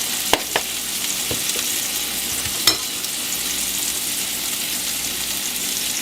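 Hamburger patties frying in a pan give a steady, close hiss and sizzle, with a few brief clicks and taps of utensils, and no voices.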